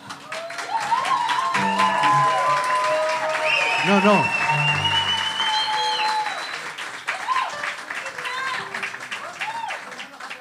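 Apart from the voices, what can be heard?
audience applause at a tango show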